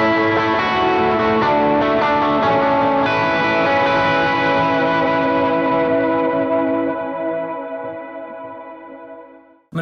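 Distorted electric guitar plays a sustained lead line through a boost and light gain stage on a Strymon Iridium, heavy gain and echo, loud and ringing, then decays into silence before a brief click at the end.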